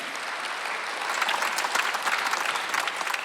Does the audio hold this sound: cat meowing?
no